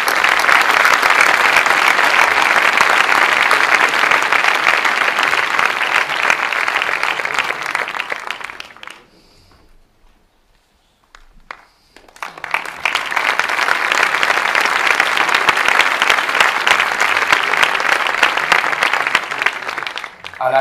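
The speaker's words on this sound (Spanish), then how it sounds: "Un aplauso para él." An audience at an anniversary ceremony breaks into sustained, dense applause, fades almost to silence for a few seconds midway, then swells back into equally strong clapping that runs to the end.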